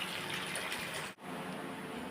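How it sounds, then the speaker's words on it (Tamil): Water bubbling at a boil in a cooking pot before noodles go in, a steady close hiss and gurgle with a brief break near the middle. "தண்ணி கொதிக்குது."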